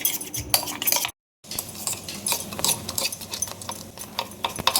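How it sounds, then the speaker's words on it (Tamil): Thick homemade herbal paste for bruises and swelling being stirred in a pan on the stove, a steady close scraping and clinking of a spoon against the pan with one brief silent gap. "இதுக்கப்புறம் நம்ம அடுப்பில் வச்சு கிண்டி நல்லா கெட்டியாக எடுத்துக்க போகிறோம்"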